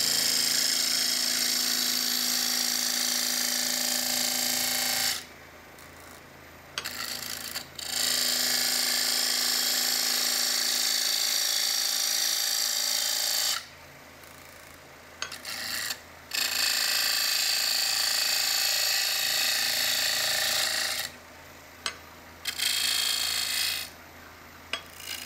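A wood lathe spins while gouges cut a three-legged stool, a steady loud mechanical hum and scraping that stops abruptly three times for brief pauses before resuming.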